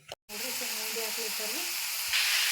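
Mixed vegetable palya is stirred in a hot pan, giving a steady close sizzling hiss with soft scraping, briefly interrupted at the start, while a faint voice runs underneath.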